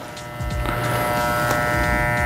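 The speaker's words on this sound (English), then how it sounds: "So now my next clipper, I'm going to use the number 1. It's a 1/8." Electric hair clipper fitted with a number 1 (1/8 inch) guard, buzzing steadily and close up as it cuts hair, with a constant drone and faint changes in load.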